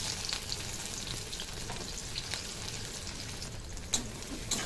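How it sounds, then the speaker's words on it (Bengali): Whole cumin seeds and chopped onion fry in hot oil in a pan, a dense, even sizzle heard up close, with a brief clink near the end. "তেলটা গরম হয়ে গেছে, দিয়ে দেবো গোটা জিরে, দিয়ে দেবো কুচিয়ে রাখা পেঁয়াজ।"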